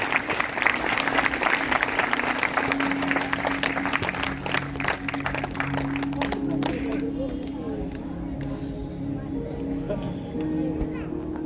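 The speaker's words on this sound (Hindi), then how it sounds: "यीशु मसीह की जोरदार तालियां बजाएंगे प्रभु के लिए।" Congregation at a Hindi-language Sunday church service breaks into loud, sustained clapping that thins out over several seconds, with crowd voices mixed in underneath.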